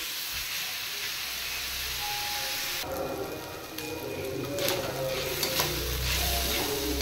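Chicken pieces frying with onion in a pan, a steady sizzle broken by stirring clatter and scraping of the utensil against the pan partway through, moderately faint.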